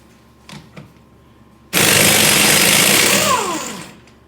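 An impact wrench spins off a front axle nut on a Honda Civic during ball joint work, a loud, dense mechanical rattle bursting in after a couple of faint taps and running about two seconds before winding down.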